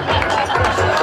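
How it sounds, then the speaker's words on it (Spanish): Crowd at an enduro motorsport prize ceremony applauding and cheering a stage winner, a loud continuous wash of claps and voices filling the whole moment. "Fuerte aplauso para él."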